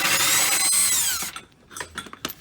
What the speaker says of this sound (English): I'm going to use an impact with an extension on that